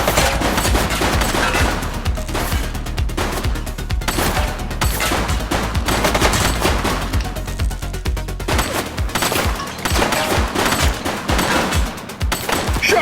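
Heavy video game gunfire, a loud, dense barrage of rapid shots and bursts rattling almost nonstop for over ten seconds with no talk over it.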